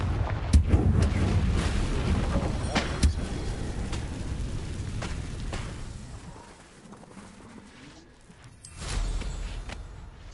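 The Confringo fire spell is cast in the game Hogwarts Legacy, producing a series of sharp blasts and booming impacts with rumbling tails, loud at first, then a quieter lull and a final thud.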